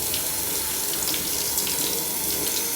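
Tap water running steadily into a sink while hair is rinsed, a dense continuous splashing hiss, close and unbroken throughout.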